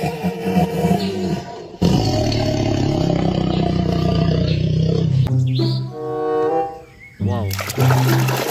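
A loud, sustained tiger roar in an animal cleaning game, rumbling over several seconds with rising and falling growls, mixed with watery splashing and trickling sounds.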